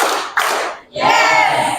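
Students in a classroom clap on cue in a short pattern, with a sharp burst of hand claps, a brief pause, then a second louder round of clapping.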